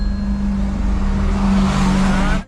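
A KSRTC bus descends the Pakramthalam ghat road, a loud, close engine roar with a rushing, hissing rise that swells, then cuts off abruptly, with no talk.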